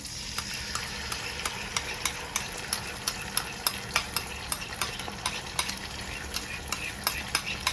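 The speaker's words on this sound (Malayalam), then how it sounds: "ഇനി നമുക്ക് നമ്മുടെ സോസിന്റെ മിക്സ് ഒഴിച്ചു കൊടുക്കാം" Chicken and capsicum fry in a pan for chicken fry as a sauce mix goes in, with steady sizzling under a regular rhythm of spoon scrapes and clacks against the pan, close and without talk.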